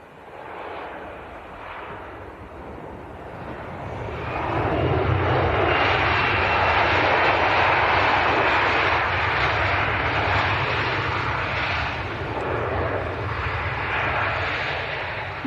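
A 28-year-old Jet2 airliner arriving from Alicante at Leeds Bradford Airport roars past, its engine noise swelling from a distant rumble to a loud, sustained wash that lingers.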